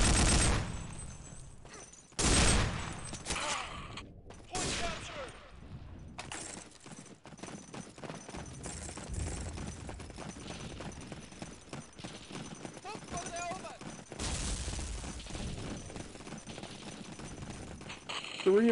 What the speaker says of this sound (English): Some good shooting.